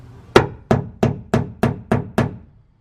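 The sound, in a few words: hammer tapping to start a drill hole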